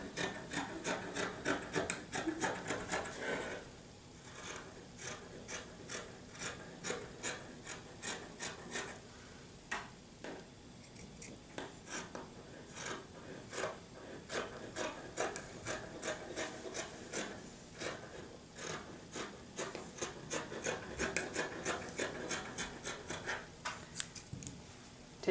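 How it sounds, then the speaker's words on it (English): Fabric shears cut all the way around a pillow, making a quiet, close series of crisp snipping and rasping strokes in an uneven rhythm with short pauses. "With your shears, flat side down, you're going to cut all the way around."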